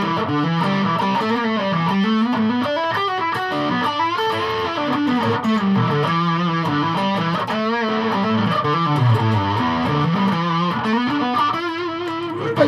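A Stratocaster-style electric guitar on its bridge humbucker runs through a Rat distortion pedal, playing a loud, continuous, fat-toned distorted riff with bending notes and no talking.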